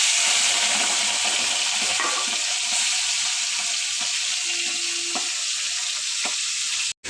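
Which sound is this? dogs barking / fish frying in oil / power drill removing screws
fish frying in oil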